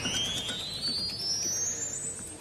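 The highest notes of the Salisbury Cathedral pipe organ sound as a thin, faint, piercing whistle that glides slowly upward in pitch across a cavernous space with soft background hiss.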